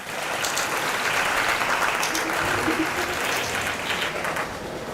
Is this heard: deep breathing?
no